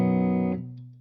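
A sustained, distorted chord rings out from a 2026 Ibanez AS7328 baritone guitar with both humbucker pickups on in the middle position. It stays loud and dense, then is choked off, with only low notes fading afterward.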